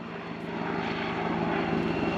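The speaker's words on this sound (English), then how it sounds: "show capability to fly upside down with this helicopter" A Royal Netherlands Air Force Apache helicopter performs an air show flying display, its engine and rotor drone loud and steady, holding a sustained low hum that slowly grows.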